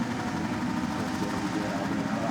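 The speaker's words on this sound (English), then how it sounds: "Revs up one last time for the Junior Cross Cars." Junior crosscar race cars sit on the grid before a final, engines droning and revving together in a dense, steady roar, with faint commentary buried under the noise.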